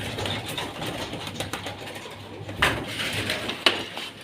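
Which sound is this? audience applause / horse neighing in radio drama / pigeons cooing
pigeons cooing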